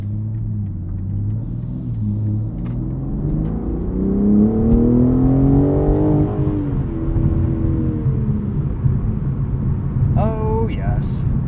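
A 2021 BMW M3 Competition accelerates hard from inside the cabin, its engine note rising steadily through the revs with a deep rumble, then a quick gear change and the climb resuming, with someone talking over it.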